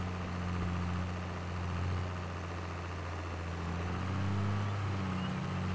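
Tractor engine in the video game Farming Simulator 22 drones at a steady low idle, a continuous mechanical hum that shifts pitch slightly midway and stays moderately quiet throughout.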